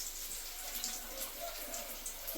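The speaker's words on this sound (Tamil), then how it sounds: "காய் வந்து அலசி போட்டுருவோம்" Vegetables such as potatoes and brinjal being rinsed in water, a steady soft splashing and trickling close by, fairly quiet, with no talk.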